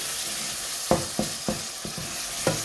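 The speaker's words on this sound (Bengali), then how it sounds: "ভালো করে কষাই নিলাম" Tomato sautéing in a pan, a low sizzle punctuated by five sharp stirring scrapes at uneven intervals, close and moderately loud.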